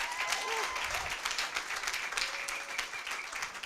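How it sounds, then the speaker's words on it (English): Audience at an agricultural career fair opening clapping in welcome, a steady spread of hands filling the hall for several seconds, with faint voices mixed underneath. "Can I get a warm welcome for everyone? Clap hands."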